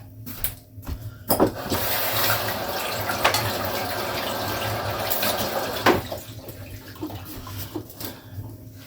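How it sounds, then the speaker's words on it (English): Hands are washed under a running tap, a steady rush of water into a sink with brief splashes and clatters at the start, fading to drips and handling noises at the end. "I'm gonna wash my hands"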